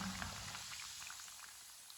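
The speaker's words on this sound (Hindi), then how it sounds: "समोसों को 2 मिनट के लिए फ्राई होने देते हैं।" Pinwheel samosas fry in a pan of oil over medium heat, giving a soft, steady sizzle and bubbling that stays faint and continuous.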